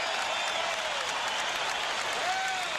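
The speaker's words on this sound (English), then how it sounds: "he got a crowd, gives him a standing ovation" A basketball crowd at a Chicago Bulls vs New Jersey Nets game gives a standing ovation, with dense, sustained applause and cheering filling a large arena.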